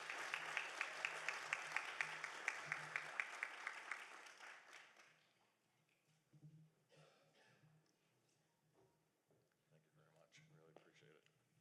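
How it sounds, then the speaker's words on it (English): Applause for an award winner at a sustainability summit, steady clapping at moderate level that fades out within about five seconds, after which the room goes quiet with only faint rustling and low hum. "Let's give him one more round of applause"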